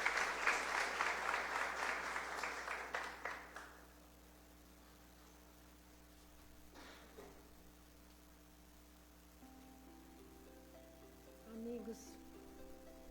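Audience at an evening spiritual lecture stands and applauds, a dense clapping burst for the first four seconds that stops abruptly, leaving a quiet hall with low hum and faint sounds.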